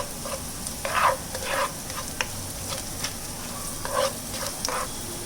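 Onions sautéing with salt in a pan for dhaba-style palak paneer, giving a steady close sizzle with intermittent bursts of stirring and scraping.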